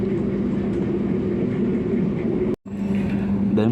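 The Bogowonto passenger train runs through Cikampek station without stopping, giving a steady loud rumble from on board, broken by a brief gap near the end before the rolling noise resumes.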